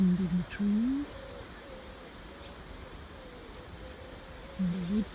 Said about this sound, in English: and the wood pigeons cooing.